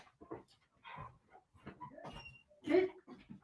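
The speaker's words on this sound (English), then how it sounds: "Maya, you cannot bark" A dog in a live talk show studio gives soft, short whines and yips, scattered through a few seconds, fairly faint and close.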